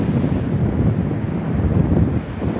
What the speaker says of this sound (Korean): 지금 현재 파도도 굉장히 좀 세고요, 여러분들. 자, 파도도 한번 보세요.